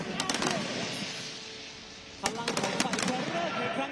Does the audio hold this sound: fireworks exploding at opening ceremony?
yes